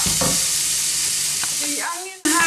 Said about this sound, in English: So I'm just going to continue to fry the onion.